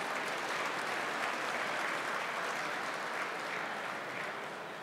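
Steady, dense applause from a large breakfast-event audience fills the room, a continuous wash of clapping held at a constant loud level throughout with no voices rising above it.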